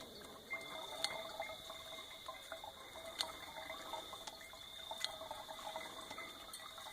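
A hand-pumped MSR water filter draws from water, giving faint, steady sloshing and trickling with periodic sharp clicks from the pump strokes, close and quiet with no talk.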